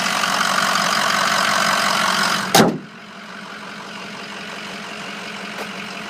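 A 2006 Ford F350 diesel truck idles nearby with a steady engine rumble, broken around the midpoint by a short sharp knock before the idle settles a little quieter.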